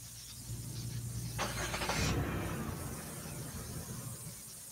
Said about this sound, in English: You hear that sound of that car?